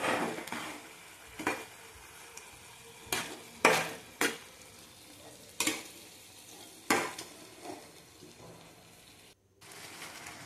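Elephant foot yam and meat curry being sautéed in a pan: a spatula scrapes and stirs in sharp, irregular strokes over a low, steady sizzle, close and clear with no talking.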